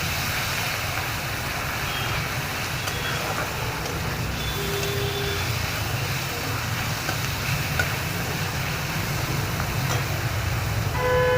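Onion frying in hot oil in a wok, a continuous dense sizzle and crackle held at an even level from start to finish, with faint stirring and no voices.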